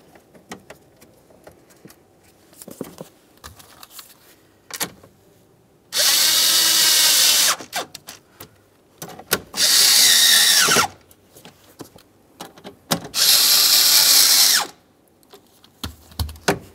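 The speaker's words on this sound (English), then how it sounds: "We'll get this aligned and start in our 3 mounting screws." Three separate bursts of a power drill driving glove box mounting screws in a 2000-2006 Chevrolet Tahoe, each a loud, steady whir lasting a second or two, with quiet handling clicks and rustling between.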